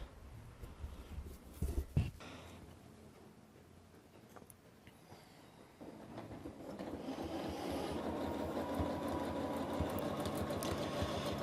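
A sewing machine stitches free-motion quilting on a flying geese design, starting with a few loud clunks and bumps, then running at a steady rapid hum that grows fuller after a short quieter stretch.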